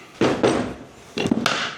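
A nylon-faced hammer is picked up and set down in a metalworking setup for aluminium, giving two close pairs of dull, woody knocks with a short pause between them.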